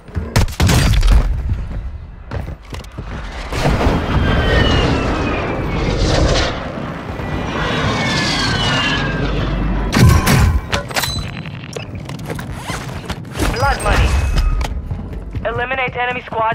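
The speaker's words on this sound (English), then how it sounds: "Hostile precision airstrike." Hostile precision airstrike in the video game Warzone 2.0, with repeated booming explosions and crackling blasts spread across the clip, loud and dense, mixed with game effects and speech.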